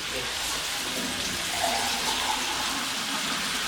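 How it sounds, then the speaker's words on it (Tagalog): Water pours in a steady, continuous stream into a pan of raw pork, a broad hissing splash that holds evenly throughout without pause. "Lagay tayo ng tubig."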